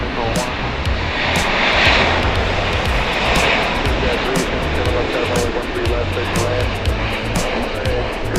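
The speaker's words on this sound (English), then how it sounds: "Oh, a plane." An airplane passes at Dallas Love Field Airport at night, a loud, sustained engine roar that swells and recedes, with intermittent clicks and crackles over the top.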